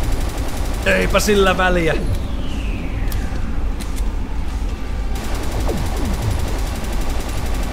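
Bursts of AK rifle fire ring out in the horror video game House of Unrest, cracking over a steady wash of game noise while someone speaks briefly.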